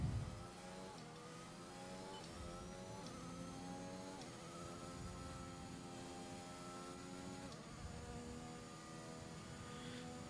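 An F1 car accelerates hard in the F1 2021 video game at the Portugal circuit, its engine whine climbing in pitch through several quick gear shifts, steady and clear with no talking.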